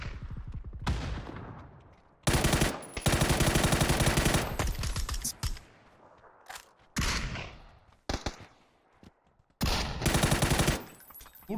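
Loud bursts of automatic gunfire in PUBG, ranked match, several rapid volleys separated by short gaps, with sharp single shots and quieter stretches between them.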